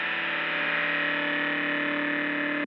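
A resampled hip hop production track, heavily effected with distortion and feedback, plays as a steady, dense sustained tone with a constant loud level and no break throughout.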